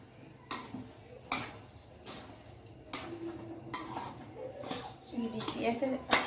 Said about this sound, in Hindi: अब हम इसके अंदर चीनी ऐड करेंगे, थोड़ी थोड़ी करके डालेंगे।